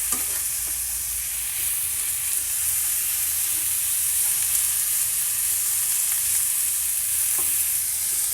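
Beef strips frying in a non-stick pan while being stirred, a loud continuous close sizzle broken by occasional scrapes and clinks of the utensil, with no talking.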